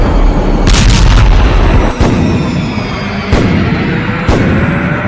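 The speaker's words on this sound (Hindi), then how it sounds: "तोप, लंबी दूरी के रॉकेट और लड़ाकू हेलीकॉप्टर से हमले किए जा रहे हैं।" Heavy booms from artillery and long-range rockets in the Russia-Ukraine war thud one after another over a loud rumbling background, with sharp blasts standing out every second or so.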